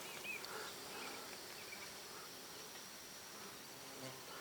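Faint buzzing of a bee crawling over flowers drifts in and out over a soft, steady wash of light rain, quiet and close, with no one speaking.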